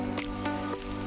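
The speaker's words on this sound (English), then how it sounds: "Rain is coming down," Rain drips onto a new rain jacket outdoors, giving a few soft, close taps and squishy drops over a steady low hum, faint and brief.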